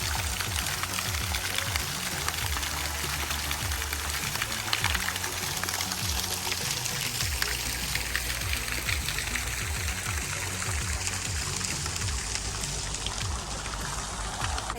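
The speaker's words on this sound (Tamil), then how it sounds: "அந்த தண்ணி சத்தம், அந்த சாரல் வந்து நல்லா இருக்குது." Running water and fine spray in a park setting at Martyrs' Shrine in Midland, Ontario, a steady, continuous splashing rush with faint low rumbles and no voices throughout.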